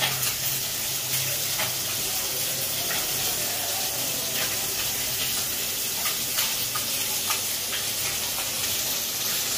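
Fish being fried in a pan ahead of making a curry, giving a steady, close sizzle with scattered crackles and pops that continues unbroken throughout.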